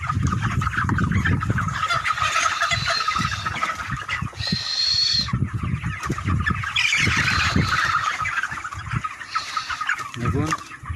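Chickens cluck and call on a farm, several birds heard up close in repeated bursts over a constant outdoor hum, with a voice speaking intermittently.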